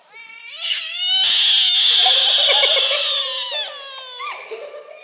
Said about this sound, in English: It's a talking frog.